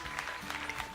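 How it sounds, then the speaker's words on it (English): Crowd applause in the horse-girl racing video game Umamusume, a faint, brief patter of clapping with soft irregular bursts over a low background. "Give her a round of applause."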